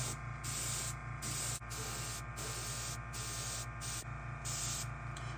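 An airbrush sprays paint in a close, continuous hiss that cuts off and restarts in short bursts several times, with a steady low compressor hum beneath.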